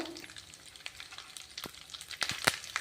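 Green chillies and curry leaves sizzle and spit in hot oil for a curry-leaf chitranna, a steady close fry with sharper pops and crackles growing louder toward the end.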